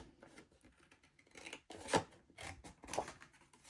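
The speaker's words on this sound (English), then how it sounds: "So I'll just cut these out." Scissors snip through card while cutting out postcards, a few close, quiet crisp cuts with a sharp louder snip in the middle, no talking.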